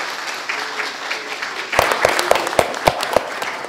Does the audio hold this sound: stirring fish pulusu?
no